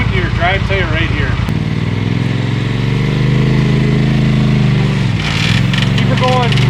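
An off-road vehicle's engine roars loud and steady on the rocky Moab Rim trail, holding high revs and rising under throttle, with people calling out over it throughout.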